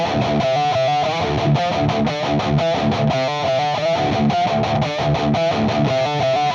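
Heavily distorted electric guitar metal tone through a UAFX Lion 68 amp pedal with boost, playing tight, chugging palm-muted riffs with sharp rhythmic stops, loud and up close throughout.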